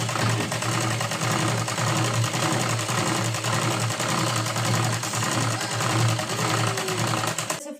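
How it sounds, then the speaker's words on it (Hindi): A sewing machine stitches a blouse sleeve in one long, unbroken run with a low motor hum and rapid needle clatter, close and steady throughout. "यहाँ पे एक बार पक्की सिलाई करनी है।"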